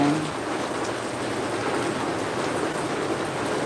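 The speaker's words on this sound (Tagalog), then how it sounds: "It's raining outside mga kapatid, as you can see." Steady rain falls outside on a cold day, a soft, even hiss of drops on surfaces heard from nearby, continuous with no voices.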